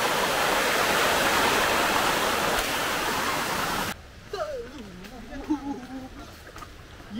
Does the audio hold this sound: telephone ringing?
no